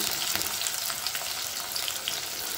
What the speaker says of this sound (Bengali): আস্তে আস্তে বেরিস্তাগুলো ভাজা হয়ে থাকুক